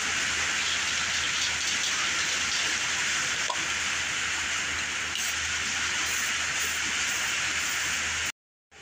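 Steady rain falls outdoors as a continuous soft hiss of drops on surfaces, with a few slightly louder patters, before cutting off abruptly at the end.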